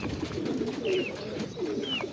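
Soft, throaty cooing of racing pigeons at a loft, several low burbling calls repeating close by over faint background noise.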